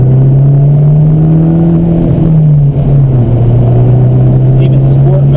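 A lowered Abarth with an ECU upgrade and 12 pounds of boost cruises through city streets in normal mode, its engine a steady loud drone shifting pitch slightly as it drives, heard from inside the cabin.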